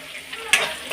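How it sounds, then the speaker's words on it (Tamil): Onions sauté in a pan with okra for a home recipe, giving a soft sizzle and brief stirring scrapes, quiet and close, with one sharper clink of the utensil in the middle. "வெங்காயம் போட்டு நல்லா வதக்கிடுங்க."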